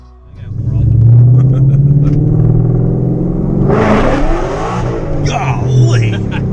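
A 700 HP Mustang with a Pypes cat-delete exhaust rumbles loudly and deeply up close, holding a heavy steady growl before revving higher as it pulls away.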